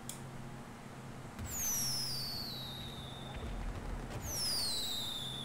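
Fireworks launched in GTA V during a heist session, two rising whistling rockets a few seconds apart over a low rumble of background game ambience.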